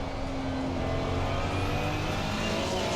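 A Ferrari 296 race car in Assetto Corsa Competizione drives the Nordschleife, its engine roaring steadily under acceleration with a faint climbing whine, loud and continuous throughout without any voices.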